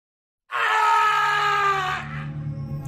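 A man lets out a loud, drawn-out scream in a jungle. It starts suddenly after silence, holds strongly for about a second and a half, then drops into a softer trailing tail.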